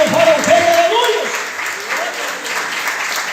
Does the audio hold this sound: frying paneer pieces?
no